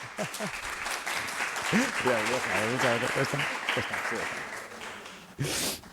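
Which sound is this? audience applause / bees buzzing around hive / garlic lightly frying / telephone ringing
audience applause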